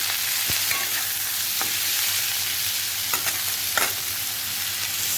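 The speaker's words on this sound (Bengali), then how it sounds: "ভাজা হচ্ছে কুমড়োটা।" Pumpkin pieces frying in a home kitchen pan, a continuous loud sizzle with a few sharp stirring clicks and scrapes, no talking.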